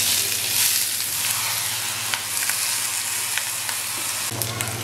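Soaked, drained basmati rice tipped into a hot pan for BBQ chicken biryani sizzles loudly and steadily, a bright continuous hiss with small crackles and scraping stir sounds on top.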